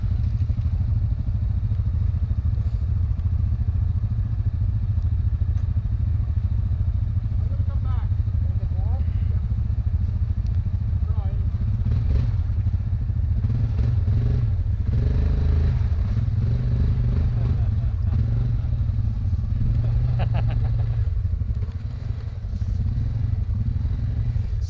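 ATV engine in reverse on a snowy winter forest trail with diff lock engaged, a loud steady low rumble with clatter and thumps throughout, voices talking over it.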